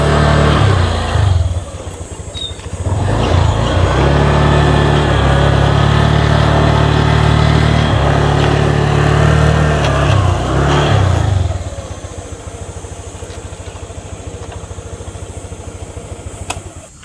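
A motorcycle engine runs steadily with a low rumbling drone for several seconds, then drops to a quieter idle, close by, at a campsite on a fruit farm.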